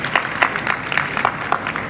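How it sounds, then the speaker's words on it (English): Light scattered clapping from a small group at a Tobago Carnival media launch, steady and moderately close, lasting a couple of seconds. "Give yourselves a round of applause for being here."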